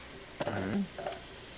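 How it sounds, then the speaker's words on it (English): Onion and mushroom sautéing in a pan, with a short burst of stirring and a soft sizzle followed by a second, fainter scrape, close and quiet. "You saute each piece separately with a little onion, a little mushroom."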